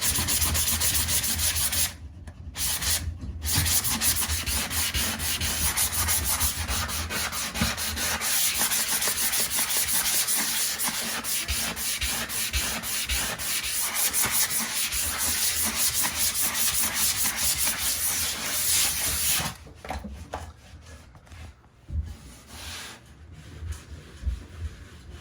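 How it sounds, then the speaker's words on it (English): A sanding sponge rubs steadily across a wall stripped of wallpaper, a close, continuous scratchy scrubbing with brief pauses early on, then easing into lighter, broken strokes near the end. "wiping that with my sanding sponge"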